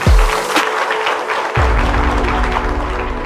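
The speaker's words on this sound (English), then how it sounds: "Let's give them a big clap offering." Audience at a school gathering applauds donors, a dense wash of clapping that holds steady for about three seconds, with a brief thump near the start and another low bump partway through.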